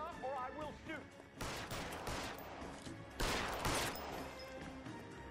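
Gunfire in L.A. Noire during a street chase, two loud bursts of rapid shots ringing out over background game sound.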